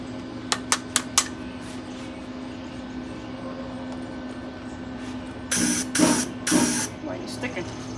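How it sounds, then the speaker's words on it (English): Wire welder sputtering and sticking while working on a 1954 Hille Ranger crank-up pop-up camper, heard as a few sharp crackles early on, then several loud, harsh bursts of buzzing arc a second or so long each. "Welder's sticking."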